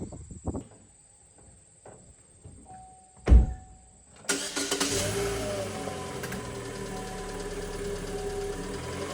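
A 2018 Chevy Sonic is started with a sharp thunk, its engine catching and then running steadily at a moderate idle as it drives up onto ramps, close and alone with no voices.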